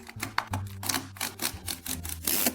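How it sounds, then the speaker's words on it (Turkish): Rapid typewriter key strikes from a Braille typewriter video game clack in an uneven rhythm, close and crisp, with a low mechanical hum underneath. "Burada bir daktilo seslerine bakalım isterseniz"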